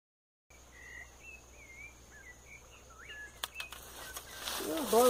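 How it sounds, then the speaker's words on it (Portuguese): Song of a sabiá thrush outdoors beside a stream while fishing for lambari, sliding whistled phrases that repeat at a moderate distance over steady background noise, with a few sharp clicks and handling sounds near the end. "Olha o canto do sabiá."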